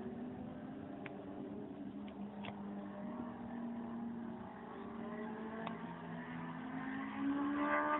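Motorcycles pass at a distance during a rural cycling event near São Roque da Fartura, a steady engine drone with rising and falling whines building louder toward the end.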